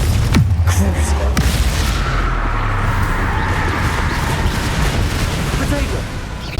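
A Confringo explosive spell in the Hogwarts Legacy video game, with a sharp blast at the start and a second hit shortly after, then a loud, dense rumbling roar that continues steadily to the end.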